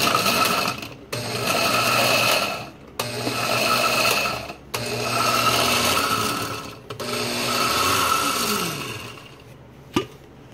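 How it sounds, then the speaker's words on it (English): A blender grinds pizza ingredients in four loud bursts of a few seconds each, separated by short pauses, followed by a single sharp knock near the end. "a blender will work."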